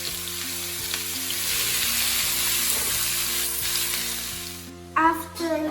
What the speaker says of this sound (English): You're gonna stir the vegetables while it's cooking for 5 minutes.